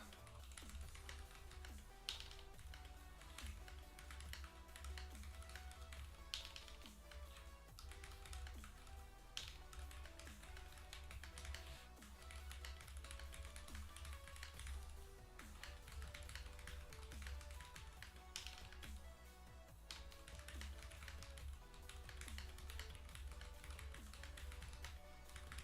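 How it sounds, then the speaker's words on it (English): Fast typing on a computer keyboard during a typing test: a steady, continuous patter of quiet key taps running under background music. "let's see how terrible of a typer I am"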